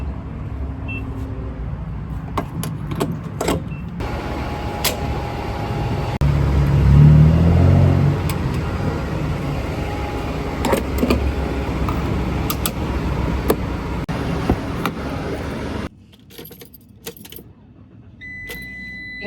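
Friday road traffic on a country route near Leesburg and Purcellville, a continuous loud rumble of passing cars swelling midway as a vehicle goes by, with rattling and clinking on top, dropping to quieter sound near the end.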